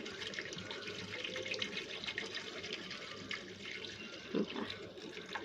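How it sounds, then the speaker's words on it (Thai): Water runs steadily into a pan, a continuous splashing pour with a brief gurgle near the end, while banana stem curry with pork is cooked in a home kitchen. "แล้วก็เติมน้ำค่ะ"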